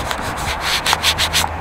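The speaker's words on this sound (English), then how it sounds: "I'm sorry for the noise if the scratching of the handkerchief" A cloth handkerchief rubs and scratches across a camera lens while it is cleaned outdoors, giving a run of close, dry scraping strokes that repeat several times in quick rhythm.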